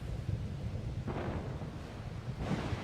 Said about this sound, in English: I recognize the game by the thunder sounds